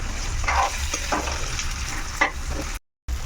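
Stuffed bitter gourd masala frying in a pan, a steady close sizzle broken by several scraping stirs of a spatula, with a brief dropout near the end.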